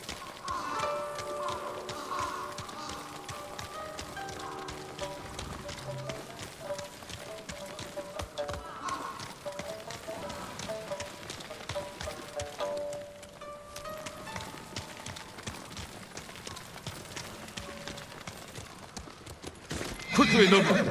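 A horse in the video game Ghost of Tsushima gallops with rapid, rhythmic hoofbeats and lets out loud whinnies, first near the start and again at the end, over a soft ambient bed.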